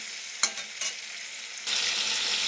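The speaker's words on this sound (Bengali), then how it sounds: "আবার একটু কষিয়ে নেবো একটু কষানো হবে" Paneer curry sautéing in a pan with a continuous sizzle, a couple of quick spatula scrapes early on, then a louder, hissier fry in the second half.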